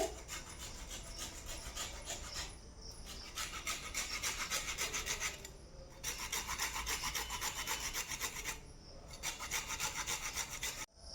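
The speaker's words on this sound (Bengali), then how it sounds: "পাতিলেবু হালকা গ্রেট করে নেব, যাতে ফ্লেভারটা সুন্দর আসে" A lime is lightly grated for fish pakora batter. It gives steady back-and-forth rasping strokes, close and continuous, with two brief pauses.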